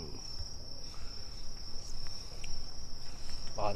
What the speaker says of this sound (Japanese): スズムシかな。